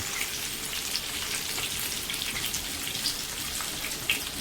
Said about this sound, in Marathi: मी सगळ्या बाजूने गॅसच्या फ्लेमवरती आणून ही बोंबील आणि सुरमई फ्राय करून घेत आहे